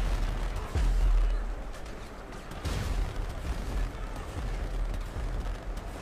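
Guns fire in an online shooting game, a dense run of booming, rumbling shots with a heavy low-end blast near the start and steady rattling bursts throughout, no talk over it.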